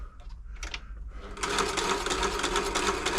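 A New Home L 312 sewing machine, dry inside and in need of service, runs slowly and clunkily as its motor struggles, giving a steady loud whirring chatter after a few brief starts.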